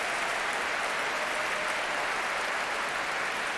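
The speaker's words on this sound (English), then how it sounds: "Gets a big cheer." A dense, steady wash of applause and cheering from a large concert-hall crowd at the Last Night of the Proms 1992, greeting the orchestra's leader, even and sustained throughout.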